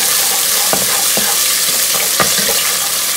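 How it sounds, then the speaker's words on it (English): Garlic stirred into marinara sauce in a stovetop pan, a steady sizzle with several scraping spoon strokes at an even pace, close and alone. "So we're just going to go ahead and give that a stir."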